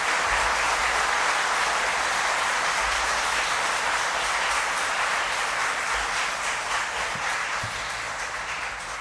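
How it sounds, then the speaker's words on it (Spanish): A lawyers' swearing-in ceremony audience applauds steadily and evenly throughout, a dense, sustained wash of clapping that fades only slightly toward the end. "El público les puede brindar un merecido aplauso."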